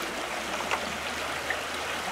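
A small Ontario stream flows steadily at a wild-trout conservation site as fish are released from a bucket, a constant close rushing wash with a couple of faint splashes.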